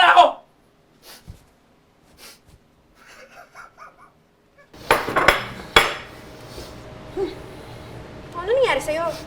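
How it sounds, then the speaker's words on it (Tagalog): Plates and cutlery clattering and clinking during dishwashing in a home, a burst of scattered clanks and knocks with a few faint voice sounds, steady rinsing-type noise after the midpoint. "Naglinis lang ng plato."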